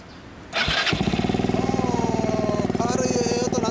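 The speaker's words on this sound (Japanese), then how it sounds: "あのエンジン音聞かせて。" A 2013 Yamaha Cygnus-X scooter fitted with a Windjammers muffler fires up with a sharp start, then settles into a light, close, rapidly pulsing idle that revs a little higher toward the end.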